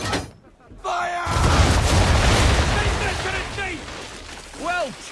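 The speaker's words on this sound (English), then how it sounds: "Bring around broadside, and when all guns are on target, call fire." A ship's cannon broadside thunders in Assassin's Creed III, a loud, sustained rumbling roar of massed guns lasting several seconds, followed by a brief shouted voice.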